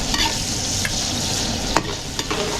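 Garlic and onion sauté in a pan for beef kare-kare, a loud steady sizzle with occasional stirring scrapes and clinks, close up and without talk.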